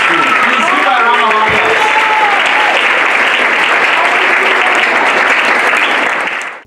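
Sustained applause from an audience at an African Child celebration award ceremony, loud and continuous clapping with scattered voices and cheers throughout, ending abruptly.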